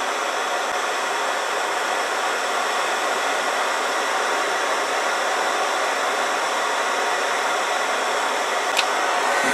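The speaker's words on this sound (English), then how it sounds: "And let's hit that with some heat." A heat gun blows hot air in a steady, loud, unbroken rush. A faint click sounds near the end.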